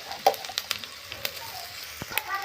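Green chilies, dried chilies and panch phoron sizzling in hot oil in a home kitchen, a soft steady crackle with scattered pops and light clicks, fairly faint.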